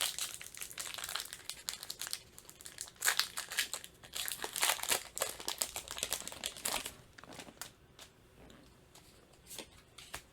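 Crinkling and tearing of a Magic: The Gathering booster pack's foil wrapper, a run of sharp close crackles and rips over several seconds, loudest in the middle, then tapering to sparser rustles.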